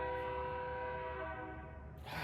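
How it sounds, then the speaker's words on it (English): A train rolls past with a sustained, loud horn blast held steady for about two seconds before cutting off into broadband rumble and rail noise. "dang that train"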